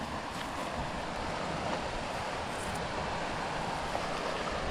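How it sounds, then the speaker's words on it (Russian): Sea waves washing against the rocks below a rocky cape, a steady distant surf roar mixed with wind, continuous and even throughout with no speech. "шум моря внизу"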